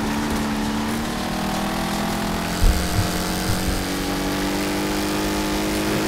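A car engine in the demolition racing video game Wreckfest drones steadily with a rough, buzzing mechanical tone, holding a fairly constant pitch and loudness throughout, with a brief thump partway through and no talking.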